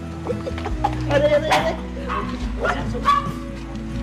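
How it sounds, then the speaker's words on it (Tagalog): A large dog barks and yips a few times in quick bursts, close by, mixed with brief whimpering and people speaking over it. "May aso dito, malaki."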